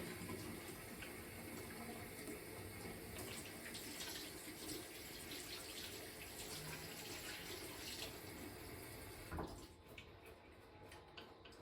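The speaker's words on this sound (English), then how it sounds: "we're going to wash our hands like we do before any task with warm water and soap" Steady running warm tap water splashes continuously into a sink as hands are rinsed, then cuts off near the end.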